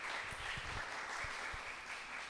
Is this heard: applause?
yes